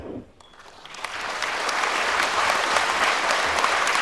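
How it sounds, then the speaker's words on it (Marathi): Loud audience applause at an entrepreneurs' motivational event, starting thin after a brief quiet moment and swelling within a second into a full, sustained crowd clapping that holds strong to the end. "मला म्हणावं वाटतं टाळ्या कडक झाल्या पाहिजेत"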